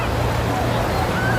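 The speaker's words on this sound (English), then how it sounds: "It's a tidal wave pool." Waves churn in a tidal wave pool at Mountain Creek, a constant close wash of moving water with wind noise and no clear breaks.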